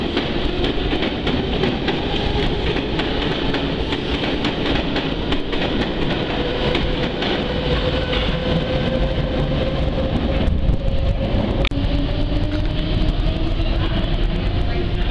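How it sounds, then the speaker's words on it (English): A London Underground Circle Line train at Euston Square station rumbles steadily and loudly throughout, with a rising whine from the motors and wheels clattering over the rails, and no talk. "And there's another Circle Line train."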